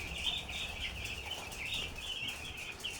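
Young chicks on a darkening and feed-restriction program peep in a busy, continuous high-pitched chorus while feeding, with soft background rustling and no talking.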